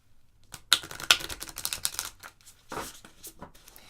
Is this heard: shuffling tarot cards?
yes